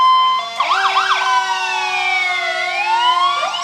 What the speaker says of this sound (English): each driver tries to out-siren the other driver